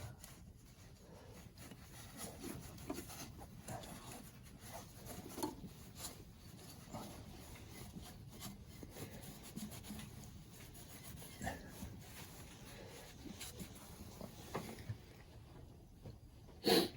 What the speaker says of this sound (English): Just clean up this mating surface a little.